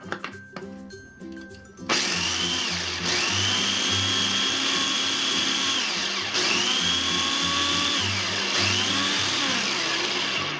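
A food processor blends basil leaves into pesto for spaghetti, its motor starting after a brief lead-in and running loud and steady in three long pulses with short dips between them.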